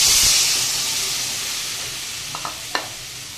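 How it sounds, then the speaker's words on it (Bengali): Water hits a hot pan of taro and potato cooked with salt and turmeric, giving a loud burst of steamy sizzling that slowly fades to a soft hiss, with a few small clinks near the end. "এবারে এটাতে যে লবণ হলুদ লেগেছিল এটাতে জল দিয়ে দিচ্ছি"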